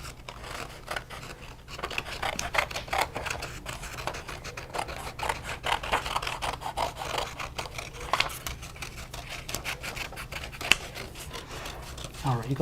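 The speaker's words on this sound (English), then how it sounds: "we can take our scissors and we can go ahead and cut out our shape real quick" Scissors snip out a paper shape in quick, close, crisp cuts that form a rapid, uneven run of clicks with soft paper rustling, held at a steady moderate level throughout.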